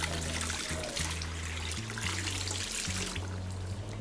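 Tap water runs and trickles steadily at a salon basin while the temperature is adjusted for washing hair, a soft continuous flow with faint tonal hum beneath it and no talking.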